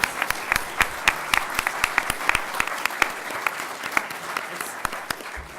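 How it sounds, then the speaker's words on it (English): Audience applause at a PAX Unplugged 2017 panel on games, gamers and therapy, a dense steady patter of many hands clapping throughout, fairly close and sustained without pause. "Applaud them!"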